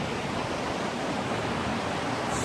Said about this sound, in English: Right here by the river.